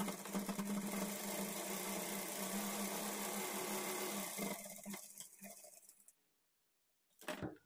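A sewing machine stitching a blouse seam runs steadily and close for about five seconds, then slows and stops, followed by silence and a brief handling noise.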